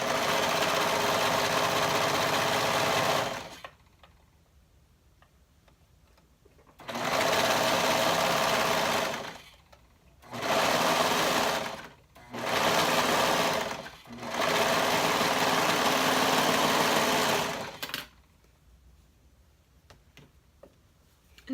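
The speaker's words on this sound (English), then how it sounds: "and then stitch it on up" A sewing machine stitches a tank top bodice seam in four loud, close bursts of fast, steady whirring, separated by short silent pauses.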